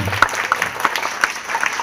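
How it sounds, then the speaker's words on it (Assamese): Audience applause at a quiz programme honouring a guest, a steady patter of hand claps with sharper individual claps standing out, fairly close and loud, with no talking over it. "ছাৰৰ কাৰণে এটা জোৰকৈ হাত তালি দিব লাগে"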